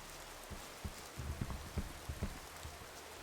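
Rain falls in the video game Gothic 2, a faint, steady hiss with a few soft thudding steps scattered through it.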